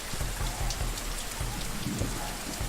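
Heavy rain pelts down in a steady, dense hiss with scattered low rumbles, continuous and fairly close throughout, with no voices.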